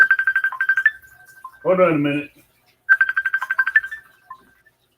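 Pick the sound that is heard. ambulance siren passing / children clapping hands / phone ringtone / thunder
phone ringtone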